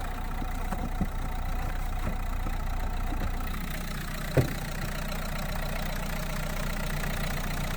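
A 2012 Renault Megane III engine idles smoothly and steadily up close, with a low even hum and a single soft knock partway through.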